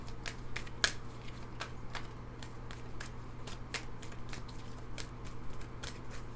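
Gateway Oracle cards are handled and drawn from a pile, producing a quick series of crisp, close snapping flicks over a low steady hum.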